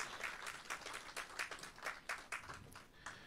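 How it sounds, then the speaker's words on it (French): An audience applauds an electoral commission president at an official ceremony, with dense, sustained clapping that pulses steadily for the whole stretch at moderate loudness, with no voices over it. "Merci, mesdames et messieurs, de bien vouloir renouveler vos applaudissements pour monsieur le président de la commission"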